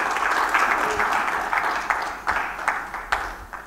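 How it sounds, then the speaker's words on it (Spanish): A church congregation claps in praise during a Spanish-language service, a scattered, reverberant patter of hands building into sharper rhythmic claps near the end, with faint voices underneath. "Si lo crees, dele palmas al Señor."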